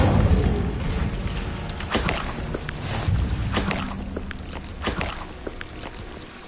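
The Incendio fire spell is cast repeatedly in Hogwarts Legacy, each cast a loud booming whoosh of flame with short rushing bursts and rumbling tails spaced a second or so apart.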